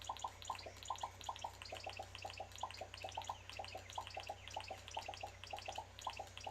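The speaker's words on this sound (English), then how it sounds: "I love the sound. Pop, pop, pop, pop. It's like little popcorn." Popping water in the game Dinkum, a rapid stream of small bubbly pops and drips in an irregular rhythm over a low steady hum, fairly quiet and close with no voices.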